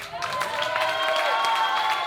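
Steady applause from an audience, a continuous wash of clapping with crowd noise, fairly loud throughout.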